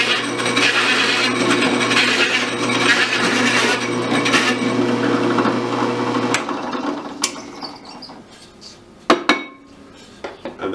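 A Lenox hole saw notching a piece of wood, plunged up and down, grinds loudly and continuously for about six seconds, then stops, leaving scattered clicks and knocks.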